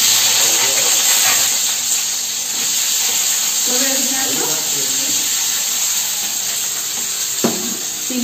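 Onion frying in hot oil while chicken chili is cooked: a steady, close hiss and sizzle runs throughout, with light stirring clinks and someone speaking over it.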